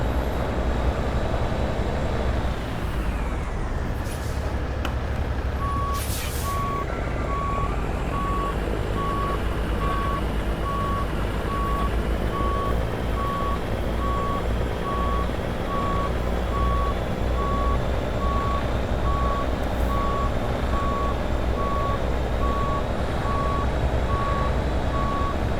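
A truck backing up a long bulk cement trailer in American Truck Simulator sends out a steady, evenly spaced reversing beep for most of the stretch, set over a loud continuous engine drone, with no voices.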